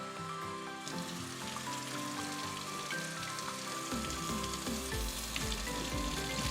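Rice being swished by hand in its rinse water, a continuous close wet sloshing and patter of grains and water, steady and fairly loud, with no talking.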